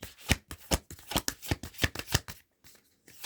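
A deck of cards is shuffled close up in a quick run of about ten crisp, rhythmic bursts that stop abruptly and leave faint handling noises.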